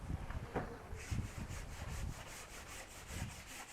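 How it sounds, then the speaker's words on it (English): Cut edges of a bathroom wall panel being sanded by hand, a steady rough rubbing with rhythmic back-and-forth strokes, close and continuous, with no talking. "We always sand the cut edges a little bit to round them off a little bit"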